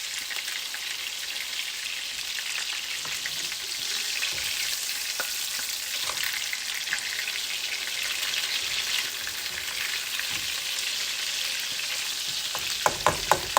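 Seasoned chicken burgers frying in a pan, a continuous bright hiss and crackle of sizzling fat, fairly quiet and steady, with a few sharp clicks near the end.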